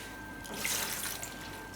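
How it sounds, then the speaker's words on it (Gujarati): Cold water is poured over freshly boiled pasta for a spinach pasta dish, giving a short, steady splashing gush that swells and then eases. "આની ઉપર થોડુંક આપણે ઠંડુ પાણી નાખી દેવું"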